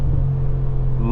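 Deep, steady V8 rumble from a 2025 Mercedes-AMG G63, a continuous low growl held close and loud for a brief moment.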